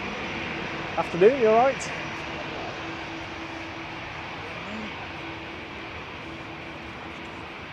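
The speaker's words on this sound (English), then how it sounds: "TUI B for TUI, coming in from Burgas in Bulgaria. One of the freshly repainted TUI Dreamliners." A freshly repainted TUI Boeing 787 Dreamliner arriving at Manchester Airport from Burgas, Bulgaria, gives a soft, steady engine drone under a brief spoken greeting between people nearby, then carries on alone at an even, moderate level.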